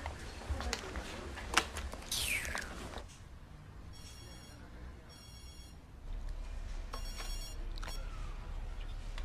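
An old-style telephone bell rings indoors in short rapid bursts, two rings separated by a pause, faint and set apart from the voices speaking before it.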